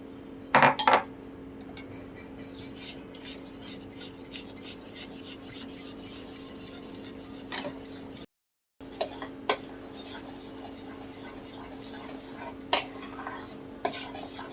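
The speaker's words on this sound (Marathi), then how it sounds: "छानपैकी पीठ हलवून घ्यायचं आपल्याला." Gram flour mixture for Mysore pak being stirred in a pan, with repeated soft scraping and tapping strokes of a spoon against metal at an uneven rhythm, close and fairly quiet, with no talking.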